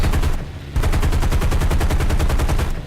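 The P-51D's .50 caliber machine guns hammer in a fast, steady rhythm in a flight combat game, loud and close, with one short pause before a long sustained burst.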